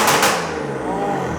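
Car exhaust with valves opened, revving once with a sharp bark then settling into a deep, loud rumbling idle drone that carries on steadily.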